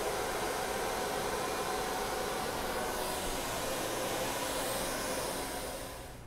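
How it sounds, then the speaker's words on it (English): Hair dryer blowing on a woman's hair during a salon blow-dry, a loud, steady rushing whoosh up close that fades slightly at the very end, with no talking. "I've completed the entire blow dry."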